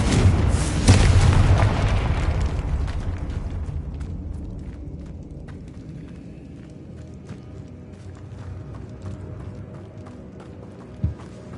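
A fire-blast spell bursts in a Hogwarts Legacy tomb: a heavy, booming explosion opens loud, then rumbles and crackles away over several seconds into a low, eerie ambience, with a short thud near the end.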